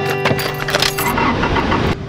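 A car being started and shifted into gear: keys jangle and an engine catches and runs loudly close by for about two seconds, with a mechanical clunk partway through.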